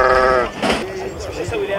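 Sheep bleating at a livestock market in Diyala, Iraq, loud and close, a drawn-out bleat followed by more calls over crowd noise and talking.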